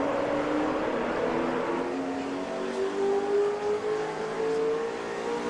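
Tony Stewart's stock car pulling away at Talladega during a race, a steady engine roar climbing gradually in pitch as it accelerates, heard at a moderate distance.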